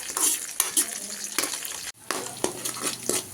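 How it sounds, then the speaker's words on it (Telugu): Tempering seeds frying in a pan for wheat rava upma, close sizzling and crackling with intermittent stirring scrapes and clinks, briefly dropping out near the middle before resuming. "ఇప్పుడైతే తాలింపు గింజలు అయితే వేస్తున్నాను"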